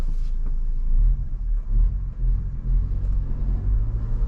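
A 2022 Ford Bronco Badlands with a 7-speed manual creeps along in crawler gear, giving a low, steady engine rumble with gentle surges, close and continuous with no talking.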